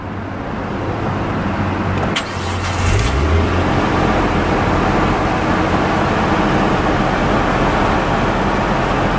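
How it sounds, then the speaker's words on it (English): A Nissan Skyline R34 GTT cranks briefly and fires up, then settles into a steady, loud idle that holds close and continuous with no talking. "we are supposed to start this car up and let you guys hear it."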